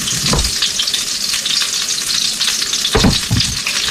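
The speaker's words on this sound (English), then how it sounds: "So our pork is ready to fry up." Breaded pork frying in a thin layer of olive oil in a skillet, giving a steady close hiss with a few louder sputters and pops near the end.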